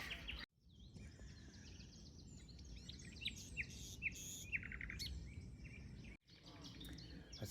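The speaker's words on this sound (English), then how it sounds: "There's a nightingale singing in the tree right behind me." A nightingale sings in a tree on a West Sussex reserve, with varied bright chirps, trills and whistled phrases carrying across steady outdoor background, fairly near and cut by two brief gaps.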